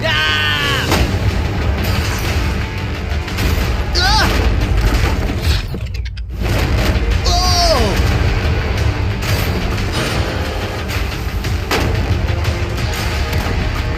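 Shots fired at a shipping container full of money ring out as several sharp, loud impacts with metallic clangs, spread across the clip, while people talk and react excitedly throughout.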